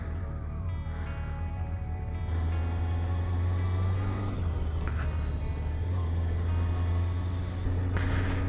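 A Yamaha FCR 1000 motorcycle, freshly fitted with a new clutch, rides along with a steady low engine drone and road rumble, moderately loud with a slight rise partway through.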